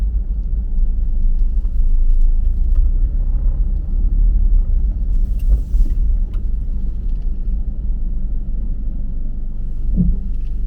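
Car interior while driving, a steady low rumble of road and engine noise that holds constant throughout with no talking.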